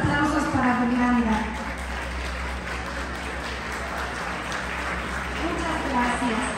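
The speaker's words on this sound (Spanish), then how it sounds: "Los aplausos para Fernanda." Guests at a quinceañera party in Tula, Tamaulipas, Mexico applaud after a toast, a loud burst at first that settles into steadier clapping beneath music and voices.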